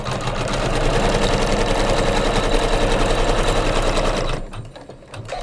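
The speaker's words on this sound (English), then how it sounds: "I'm going to hit start again, and it's going to do that horizontal line." An embroidery machine stitches a horizontal placement line on a pieced flag block for a pillow, a steady rapid mechanical whirring and needle chatter that runs loud and even, then stops abruptly near the end.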